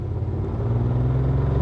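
A 1974 Triumph TR6 sports car engine accelerating in first gear, a close, steady low growl that builds slightly over a brief moment.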